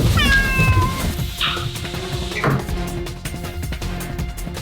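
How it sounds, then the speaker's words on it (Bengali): A pet cat meows several times in a hidden room, the cries near, clear and drawn out, with a few rustles and thumps around them. "আমার বিড়ালটা আমাকে খোঁজার জন্য এখানে এসে ম্যাও করছে"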